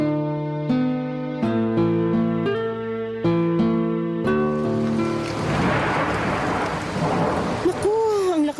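Heavy rain pours outside a window, a dense hiss rising after sustained musical tones fade, with a brief swooping tone near the end.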